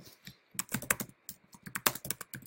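Computer keyboard typing in short clustered bursts of key clicks with brief pauses, close and clear with no talking.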